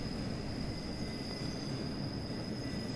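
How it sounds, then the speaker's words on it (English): A BR Class 50 diesel train crawls into a station with a steady low rumble of wheels and engine, a thin high whine running throughout, continuous and moderately loud with no talking. "Got this train just crawling in here."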